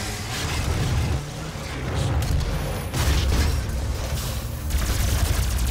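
Plasma rifle fire from the video game DOOM: dense, rapid bursts of energy shots with booming impacts and game effects, loud and continuous across the whole stretch.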